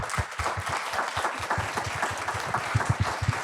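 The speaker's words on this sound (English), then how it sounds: "And I'd like to thank speakers again with applause." An audience at a pharmacogenomics forum gives speakers a round of applause, many hands clapping in a brisk, steady patter close by, with no talking.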